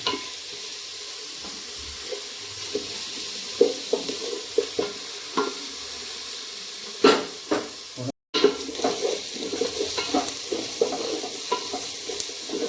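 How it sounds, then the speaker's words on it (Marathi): Onions and tomatoes for a chicken dum biryani gravy sizzle softly in a pan, with intermittent stirring scrapes and clinks standing out over the low, continuous frying. "कांदा परतून घेऊ आपण."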